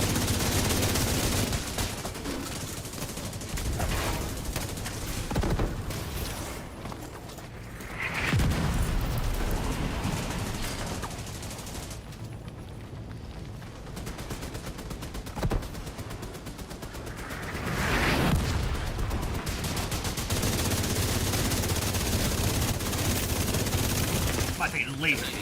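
Mortar fire in a video game on its hardest difficulty, heavy repeated booming and gunfire bursts across the whole stretch, loud and dense, with a person talking over it at times.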